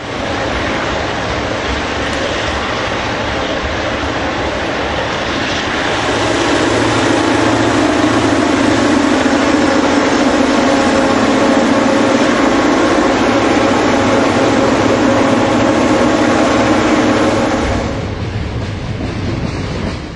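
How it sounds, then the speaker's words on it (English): ABA Black Widow diesel locomotives with 567 engines haul an eastbound freight uphill over Long Ravine toward Donner Pass, a loud sustained engine roar that swells as the units pass close, then drops away near the end. "a symphony of 567s digging in to get this train lifted east over the hill"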